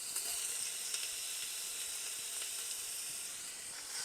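Carrots and onions sautéing in melted oil and butter, giving a continuous soft sizzle and hiss at moderate distance, with no talking.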